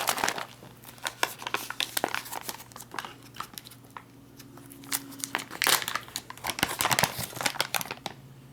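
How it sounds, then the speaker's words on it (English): An MRE pouch holding cocoa beverage powder and water is shaken hard, producing close, loud, irregular bursts of crinkling plastic that rise and fall in rough rhythm across several seconds, with a faint sloshing undertone. "And shake it right up in the pouch."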